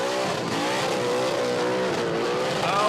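Burnout car at the Red Centre Nats, engine bouncing hard off the rev limiter with the tyres gone: a loud, continuous, buzzing high-rev scream with rapid limiter stutter and tyre roar, close and unbroken for the whole stretch.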